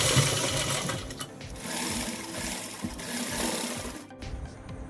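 A sewing machine stitches a hijab cap in a steady, close, rapid mechanical chatter that runs almost continuously, then stops abruptly near the end.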